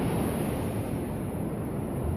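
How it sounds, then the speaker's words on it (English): Ocean surf washes onto the beach at Bodega Bay, a steady, loud broadband rush with wind buffeting the microphone and no voices. "listen to the waves"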